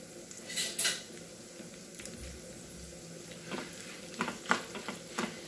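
Dried red chilies and curd chilies fry in hot oil as a tempering for Andhra-style Malabar spinach dal, with a soft steady sizzle, a few louder stirring scrapes and clinks, and no talking.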